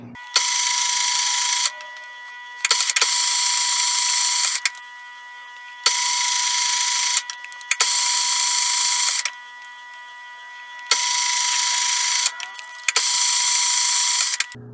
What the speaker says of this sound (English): We've got our threading tool in the tool holder. Let's make some threads.